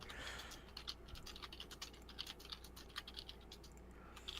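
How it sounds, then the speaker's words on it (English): Rapid clicking of keys on a computer keyboard, irregular bursts of light taps at steady typing pace, close by and without any voices. "I believe Ying is typing"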